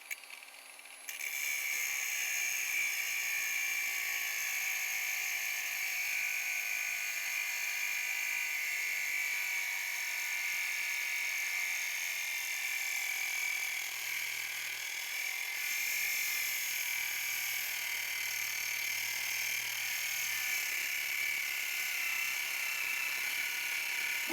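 An angle grinder cuts at its lowest speed with light pressure during removal of a Perkins Prima M50 engine and frame from an Amel Santorin sailboat. It gives a steady, close, high-pitched whine that runs unbroken for about 24 seconds, with no talking.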